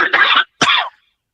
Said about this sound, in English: so that he can cough without